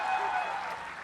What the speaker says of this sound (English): Can you give them a massive round of applause?